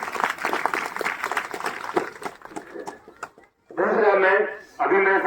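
Loud clapping from a village crowd welcoming guests at a community gathering, a dense burst of applause after a stretch of talk over a microphone, with a short gap before a second round.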